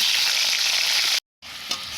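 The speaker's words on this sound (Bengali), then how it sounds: "ওই কড়াইতে আবার তেল দিয়ে দিচ্ছি কিছু আলু ভেজে নিচ্ছি" Potatoes fry in oil in a wok with a loud, dense, continuous sizzle that cuts out completely for a moment and then resumes slightly softer.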